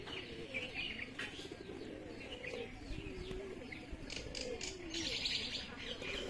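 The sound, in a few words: pigeons cooing in loft setup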